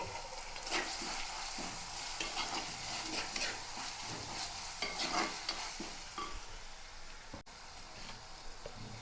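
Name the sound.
curry leaves added to hot oil, sizzling while stirred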